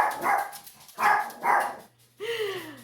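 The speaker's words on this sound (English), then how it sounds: "I don't know if you can hear my dogs barking in the background." Several sharp, high-pitched barks from small dogs in quick bursts, followed by a drawn-out whine, fairly close and loud.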